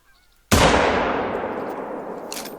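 A single rifle shot fired in the hunting game theHunter: Call of the Wild cracks loudly and sharply, then rolls off in a long fading echo across open terrain, with a faint higher sound near the end.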